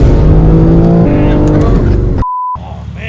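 A 1300 hp BMW M3 roars loudly from close range with a steady, droning engine note, briefly interrupted near the end by a flat electronic beep before the engine noise resumes more quietly; voices can be heard faintly.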